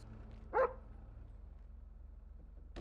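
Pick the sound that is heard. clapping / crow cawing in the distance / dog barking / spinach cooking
dog barking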